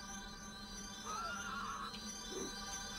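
A horse whinnies once near the middle, a rising then falling neigh over steady background hum and game ambience, followed by a short low snort.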